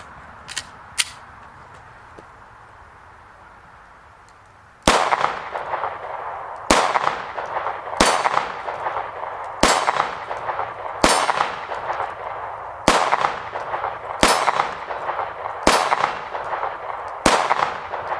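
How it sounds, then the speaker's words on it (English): A brand-new cyan Taurus G2C 9mm pistol fires 115-grain Federal ball rounds outdoors, about ten sharp, loud shots at uneven intervals, each with a ringing metallic tail, after a quiet stretch with a couple of faint clinks. "So I'm going to start off with some 115 grain Federal ball rounds, follow it up with a second mag just to break it in"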